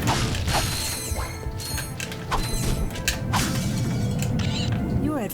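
Glass shattering in Ratchet & Clank 2: Going Commando, bright crashing and tinkling mixed with mechanical clanks and whirs from the game, fairly loud amid steady background noise.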